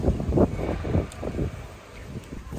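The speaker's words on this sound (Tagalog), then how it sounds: "Pero lakas ng hangin." Gusty wind in Taiwan in winter roars and buffets the microphone in uneven surges, loudest early on and easing slightly toward the end, with no voices.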